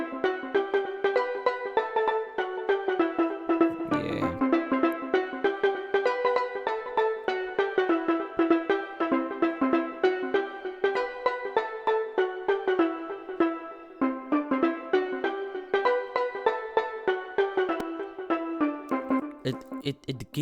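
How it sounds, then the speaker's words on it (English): A bright, harmonic steel drum synth built in FL Studio for an Afrobeat track plays a busy, continuous melodic pattern of ringing mallet-like notes, steady and clear throughout. "bright harmonic steel drums"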